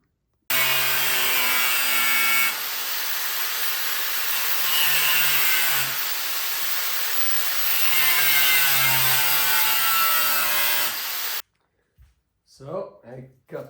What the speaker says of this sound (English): So I cut them out, cut the holes, or cut the inserts out